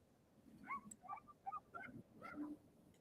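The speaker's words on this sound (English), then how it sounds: "Are our dogs yelling at each other?" Dogs yipping and whimpering at one another in short, high overlapping bursts, a string of small yelps spread across a few seconds at moderate level.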